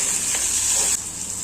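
Onion, tomato and chilli frying in oil in a kadhai over a gas flame give a steady, close sizzle with a brief stirring scrape partway through and no voices.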